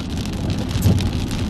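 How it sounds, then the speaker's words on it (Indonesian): Steady rain falls under an overcast sky near a racing and drifting workshop, a continuous, even hiss of drops with a low rumbling undertone that could be distant thunder or traffic, no voices present. "hujan terus, ya nggak?"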